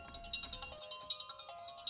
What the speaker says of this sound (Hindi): अबे कौन वीआईपी आदमी सुबह सुबह तुझे फोन कर रहा है बे?